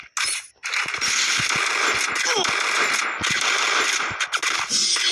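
Rapid automatic gunfire in a Lone Wolf round of a shooting video game, played on full control, crackles in fast, close bursts with short gaps and metallic clinks between volleys.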